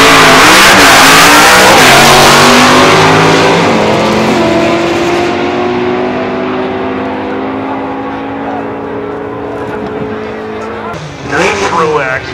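An all-motor drag racing car with a clutch launches at a competition, its engine roaring loud and close then revving up through rising gear tones as it accelerates away and fades into the distance.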